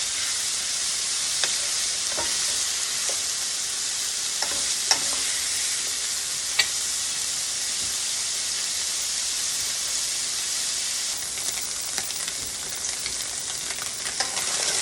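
Chicken and kielbasa sausage browning in olive oil in a pan give a loud, continuous sizzle close by, broken by a few light clicks from stirring, with no one talking.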